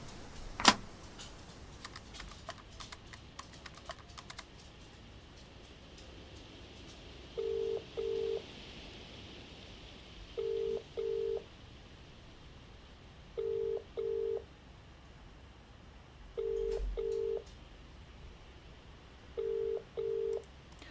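Telephone keypad dialing tones, paired short beeps repeating in regular groups about every three seconds over a quiet room hum, with a clattering handling noise near the start.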